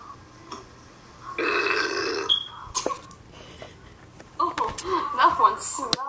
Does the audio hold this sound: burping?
yes